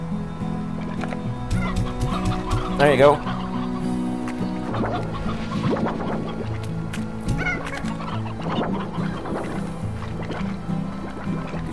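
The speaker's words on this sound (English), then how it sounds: "So I like to keep a good population of chickens." Chickens cluck and squawk in a Slime Rancher farm, a busy scatter of short bird calls over a steady game soundscape, with a brief spoken remark partway through.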